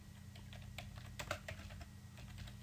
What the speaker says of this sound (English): So we'll type in here